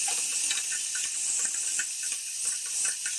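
Cauliflower stalks being stirred in a pan with salt and turmeric: a steady close hiss of cooking with faint, scattered light ticks throughout, no voices.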